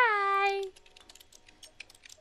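A cat in the video game Stray walks across computer keyboard keys: a drawn-out meow opens, then a string of light, irregular key clicks and taps follows, soft and close.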